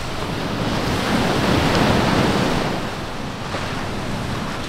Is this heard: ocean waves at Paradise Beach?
yes